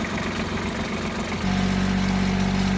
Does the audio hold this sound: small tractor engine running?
yes